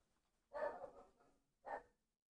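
A dog gives two muffled barks, the first longer and the second short, from somewhere nearby but not close, with quiet in between.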